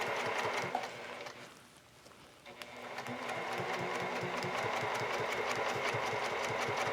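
A sewing machine runs free motion quilting stitches, guided along a ruler, heard close. A rapid mechanical hum and needle patter pauses briefly, then resumes and holds steady.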